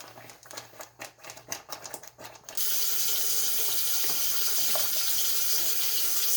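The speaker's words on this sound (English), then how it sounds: "you add some more water to the pot, cold water" Cold water pours steadily from a tap into a pot of Jamaican cornmeal porridge, a constant loud hiss and splash that follows a few seconds of scattered clatter and tapping.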